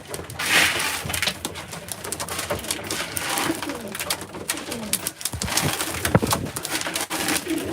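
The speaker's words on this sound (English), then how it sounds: "Now these pigeons are on eggs." Racing pigeons sitting on eggs coo in soft, repeated throaty bursts close by on a cold day, layered over one another with a bit of rustling and no talk.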